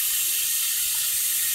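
Cut lettuce being rinsed under a running kitchen tap, a steady loud hiss of water into a sink with no pauses.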